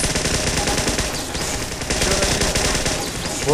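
Rapid automatic gunfire from the video game Team Fortress 2 on Xbox, dense and continuous bursts filling the whole stretch, loud and alone with no talking.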